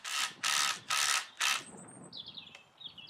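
A power driver sets long 150mm concrete screws into fence timber in four short, loud whirring bursts with brief pauses, followed by faint high chirps and a quiet background.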